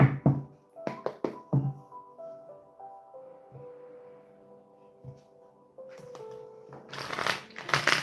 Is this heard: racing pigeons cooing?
no